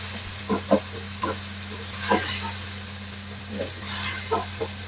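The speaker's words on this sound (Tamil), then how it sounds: "இஞ்சி வெள்ளப்பூடுல மனம் போகும் மட்டும் நாங்கள் நல்லா வதக்கி கொள்ளணும்" Ginger-garlic paste sautéing in oil for a village-style mutton curry, a faint, steady hiss with a few soft stirring scrapes and clicks over a low electrical hum.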